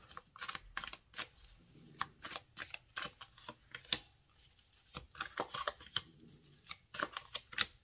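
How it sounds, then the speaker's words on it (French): Oracle cards are shuffled by hand for a reading, giving a long series of crisp, close flicks and riffles in quick irregular clusters with brief pauses, quiet and alone. "on va refaire un tirage avec cet oracle"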